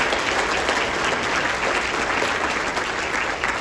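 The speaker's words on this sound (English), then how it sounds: "Let's give them a round of applause as well." Sustained applause from a large audience at a city state-of-the-city address fills the room, dense and even throughout with no speech over it.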